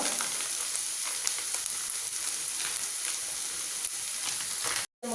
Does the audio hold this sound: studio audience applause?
no